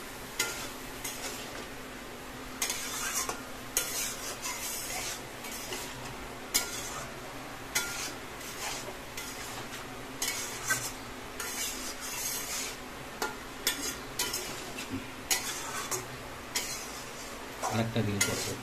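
A metal spoon scrapes and clatters in a pan as spices are stir-fried with young jackfruit for a prawn dish, steady scraping and clinks over a soft sizzle, with voices talking in the background.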